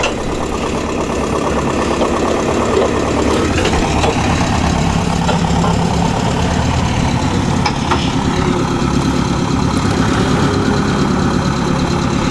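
Nissan forklift engine running steadily, a continuous mid-pitched idle rumble with a faint knocking texture, close and constant throughout with no talk.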